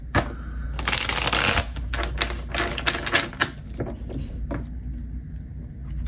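Tarot cards being riffle-shuffled up close, a dense crackling flutter followed by lighter tapping and shuffling as the deck is handled; no one speaks.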